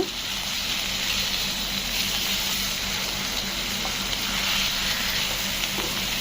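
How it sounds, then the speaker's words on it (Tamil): Fish frying in coconut oil for Kerala-style meen polichathu, a steady, dense sizzle and crackle that holds evenly throughout with no talking. "கோகனட் ஆயிலில் தான் ஃப்ரை பண்ணணும்"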